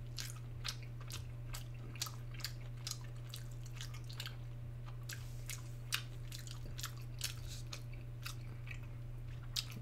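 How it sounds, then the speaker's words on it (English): Steady close-up chewing of tough cow tripe and shiitake mushrooms: moist, squelching bites and light clicks in a continuous uneven rhythm over a faint low hum, with no voice. "it doesn't go down easy because all the chewing involved."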